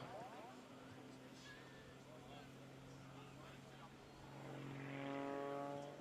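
A propeller-driven model aerobatic airplane flies overhead with a steady, droning engine tone that rises and swells toward the end, heard at a distance under continuous talk.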